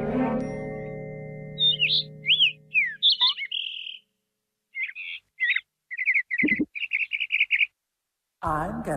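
A cartoon bird from a Tom and Jerry cartoon chirps and tweets in short, scattered bursts of high whistled calls, loud and close, after a sustained tone fades out at the start.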